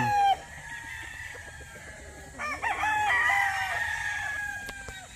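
Gamefowl roosters crow loudly nearby at a gamefarm, several calls overlapping, with hens clucking underneath.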